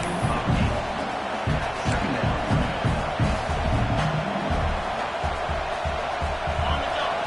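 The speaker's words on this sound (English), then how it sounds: "this crowd is fired up. Listen to this noise here." A fired-up stadium crowd at a football game roars in a dense, continuous wall of noise with rhythmic chanting or clapping, heard at a distance while commentators talk.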